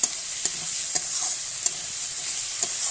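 Bhangan fish curry is sautéed in mustard oil with a constant sizzle, while a spatula scrapes the pan in sharp, regularly spaced strokes, all close and without speech.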